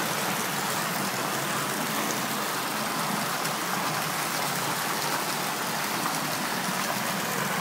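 Heavy rain pours steadily in Cotija, Michoacán, a dense, continuous hiss of falling water with rushing runoff, close and loud throughout, with no voices.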